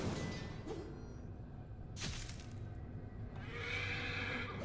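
Horse neighing in the video game Pathfinder: Wrath of the Righteous, a loud whinny standing alone amid game sounds, with a sharp whoosh or impact in the middle and rising noise toward the end.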